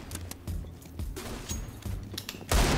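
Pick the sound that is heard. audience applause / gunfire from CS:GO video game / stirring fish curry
gunfire from CS:GO video game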